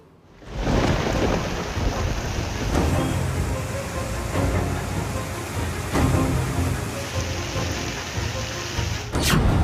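Heavy monsoon rain pours steadily in Jamnagar, Gujarat, with deep rolls of thunder rumbling underneath and swelling at intervals; loud and continuous throughout, no voices.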